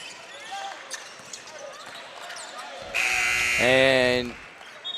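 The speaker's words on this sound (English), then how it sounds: "Buzzer sounds." Buzzer at a high school basketball game during a holiday showcase, a loud harsh electronic blare lasting about a second and a half after gym crowd noise and squeaks.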